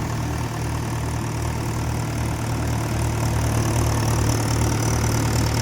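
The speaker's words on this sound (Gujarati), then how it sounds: "એકદમ સાયલેન્ટ ટ્રેક્ટર હાલે." A Mahindra tractor engine runs steadily nearby driving a thresher in a mustard field, a low throbbing rumble with an even rhythm and no voices.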